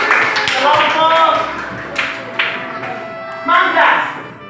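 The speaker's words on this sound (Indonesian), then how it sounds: "tepuk tangan untuk kelompok Nenas" A classroom group of students claps for the Pineapple team (Kelompok Nenas) during a religious studies lesson, with bursts of applause mixed with children's chatter and voices over the top.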